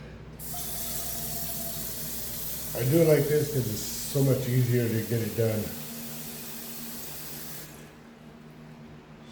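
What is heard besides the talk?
kitchen tap water running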